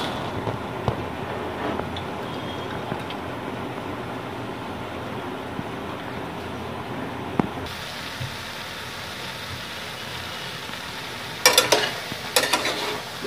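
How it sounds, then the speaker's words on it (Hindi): Undhiyu vegetables sautéing in a pan, a soft steady sizzle with occasional stirring clinks, dropping quieter partway through before a few louder scrapes near the end. "ये सौते हो रहा है"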